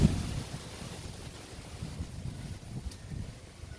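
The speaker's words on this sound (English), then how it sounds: "And we have a lot of wind blowing." Strong wind roars outdoors near a home during a wildfire in Thousand Oaks, a steady rushing buffet across the microphone with no voices.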